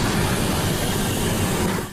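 Freight train known as The Beast, a migrant route train, rolling past in a continuous loud, close rumble and rattle with no break.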